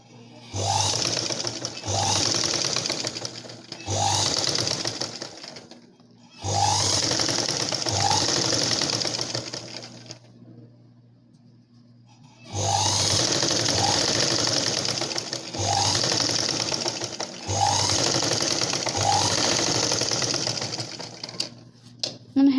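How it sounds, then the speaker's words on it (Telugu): A domestic sewing machine stitches a blouse seam in repeated bursts of steady mechanical whirring, each run lasting a few seconds and separated by short pauses, with one longer quiet gap midway; close and fairly loud. "ఈ విధంగా మార్కింగ్ చేసిన దగ్గర అయితే నేను స్టిచ్చింగ్ చేస్తున్నాను"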